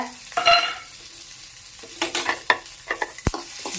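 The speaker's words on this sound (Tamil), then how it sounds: "நல்லா வதக்கிக்கலாம் எண்ணெய் ஊற்றி எண்ணெயில் வதக்கிட்டு" Green chillies sauté in oil in a kadai, giving a soft sizzle with intermittent stirring and scraping clatters, fairly close and alone with no talk.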